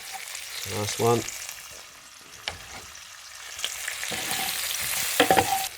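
Red onions sizzle and crackle in a hot pan with occasional stirring, a steady frying hiss throughout; someone speaks briefly near the start.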